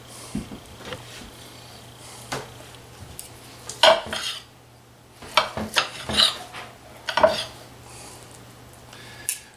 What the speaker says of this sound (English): we're going to cut this up and plate it up.